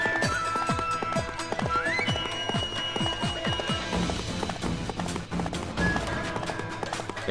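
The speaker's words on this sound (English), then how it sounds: "getting my horse" Horse galloping in the Samurai Warriors 3 video game, a fast steady rhythm of hoofbeats with a whinny, game music and effects layered underneath.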